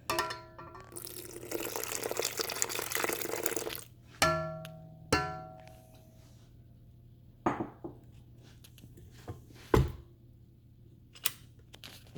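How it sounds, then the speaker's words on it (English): Liquid poured slowly into an eggnog mixture with a pinch of salt, a broad splashing stream for several seconds followed by scattered drips, clinks and taps of a utensil against the bowl, close and fairly quiet. "I'm just going to slowly add in the liquid."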